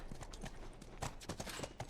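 Horse hooves clip-clop in the video game The Last of Us, a quick uneven run of hoof strikes over a steady ambient bed, moderately near.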